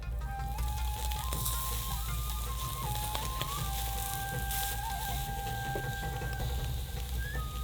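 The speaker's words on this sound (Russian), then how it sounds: "И начинаем обжаривать говяжий язык." Beef tongue fries on a grill grate with a continuous dense sizzle, loud and close. Faint thin tonal whistles run through it, and no one speaks.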